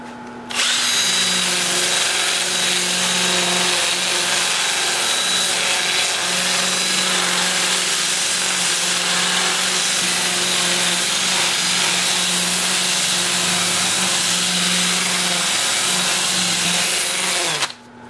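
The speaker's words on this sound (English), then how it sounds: "I'll switch to my 2-inch disc at 80 grit and sand up through 400 everything that's been turned" Wood bowl being power sanded with a 2-inch sanding disc at 80 grit on a lathe, a steady loud whirring drone with abrasive rubbing that runs continuously for most of the clip, no talk.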